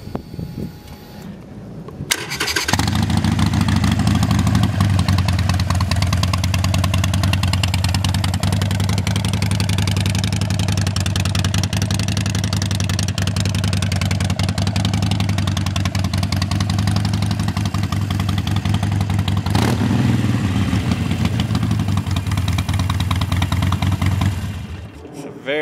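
A fuel-injected 2012 Harley-Davidson XL1200N Nightster is started up and settles into a loud, steady, close-up idle with a deep rumbling lope, holding for about twenty seconds before the engine is shut off.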